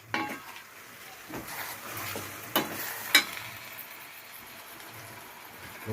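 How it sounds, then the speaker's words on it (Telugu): A spoon stirs a spicy chicken curry in a pot, soft scraping and gentle sizzling with a few sharper clinks against the metal, quiet and close with no talk. "ఇప్పుడు మనం బాగా మిక్స్ చేయాలి"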